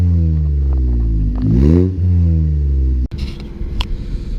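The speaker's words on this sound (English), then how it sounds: "under here is a muffler delete, as you can see. So, it makes a pretty sporty sound," A Skoda Fabia 1.2 with a muffler delete revs hard and close, its engine note rising to a peak and falling back before dropping into a rough, rumbling idle, with no talk.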